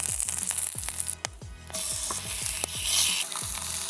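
A deer heart sears in a pan over a campfire outdoors, giving a continuous sizzle with regular low knocks and crackles. It sounds close and moderately loud, with no talking.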